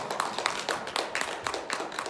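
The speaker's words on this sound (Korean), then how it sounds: "큰 박수로" A dense wash of clapping from a church congregation after a sermon, steady and moderately loud, with no voices over it.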